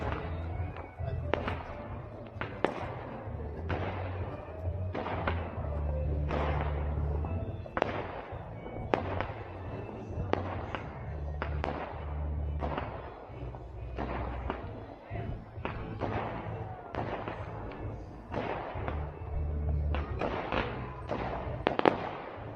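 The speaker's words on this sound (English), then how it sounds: "Test of the low light capabilities, and we got more fireworks." Fireworks burst at dusk during a bus gathering, a long run of sharp cracks and booming thuds at irregular intervals, with a low rumble between them and moderately distant.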